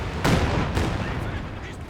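Katyusha rocket artillery firing in Company of Heroes 2, a couple of loud booming launches with rumbling tails amid battle noise, while a commentator talks over it.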